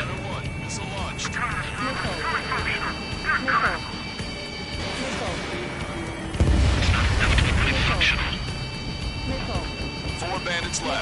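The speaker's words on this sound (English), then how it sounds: "Missile launched" A missile launches from a fighter jet in the aerial combat game Ace Combat 7: a deep roaring rush swells partway through, buried under music and busy radio chatter.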